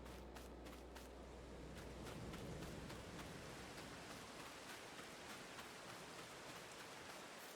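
Rain falls steadily outdoors on a forest farm, a faint, even hiss with scattered sharper drop patters across the whole stretch and no talk.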